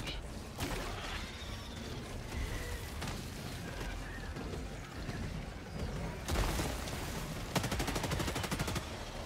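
Weapon fire in the co-op shooter Helldivers 2, played solo on Helldiver difficulty, with sustained bursts over dense game noise and a rapid rattling volley near the end.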